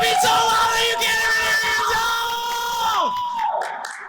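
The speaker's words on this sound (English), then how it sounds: "So we get louder cheers, louder claps, getting louder, louder, louder, louder." A camp crowd of children yelling and cheering, voices piling up into a loud sustained roar with whoops and shouts that tail off near the end.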